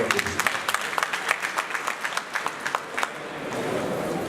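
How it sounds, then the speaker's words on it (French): An audience at a university faculty of letters ceremony claps in a dense, moderately loud burst of applause that thins out and fades toward the end, leaving a soft room murmur. "ce qui mérite des applaudissements."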